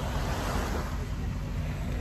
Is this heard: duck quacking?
no